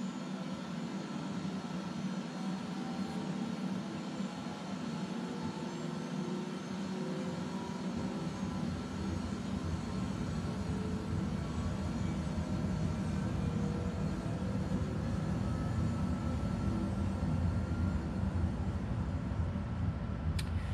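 A simulated Airbus H145 helicopter turbine in Microsoft Flight Simulator 2020 spools up toward idle, a steady whining hum with a low rumble that stays even and moderately faint throughout.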